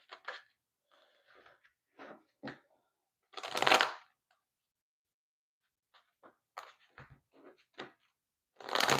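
Tarot cards being shuffled in several short bursts with pauses between, crisp riffling and flicking close by, no speech.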